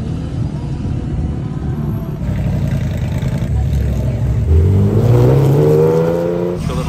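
An old Jaguar car's engine rumbles at a low pitch close by on Ocean Avenue in Carmel during Monterey Car Week, rising in pitch toward the end as it pulls away amid steady street noise.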